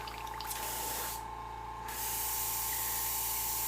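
A soft, steady hiss of an airbrush spraying black paint, with a brief pause midway before the spray resumes, faint and close over a low hum.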